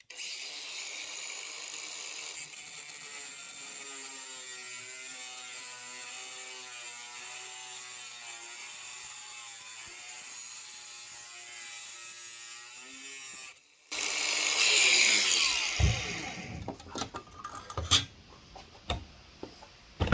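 An angle grinder cuts through a piece of aluminium with a steady, loud whine for about thirteen seconds. The motor then cuts out and is followed by a harsher burst of noise and scattered sharp clatters.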